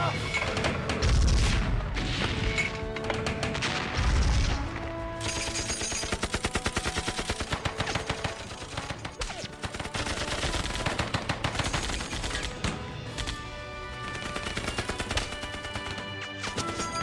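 Gunfire in a war film set against Japanese forces: bursts of rapid machine-gun fire and scattered shots with crashing impacts, loud and continuous, mixed with dramatic music and a brief shouted command.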